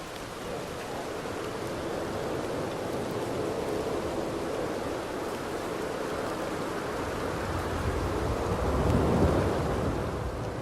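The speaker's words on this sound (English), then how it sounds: "I lit this on fire and listen to the storm" A thunderstorm with rain in Red Dead Redemption 2 pours as a dense, steady hiss of rainfall with deep rolling thunder underneath, swelling louder toward the end, with no voices.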